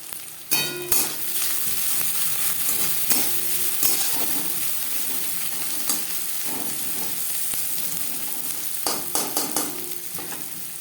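Chopped onion frying in hot oil for begun bhaja, a steady close sizzle running throughout with occasional sharp scraping clanks of a spatula stirring in the pan.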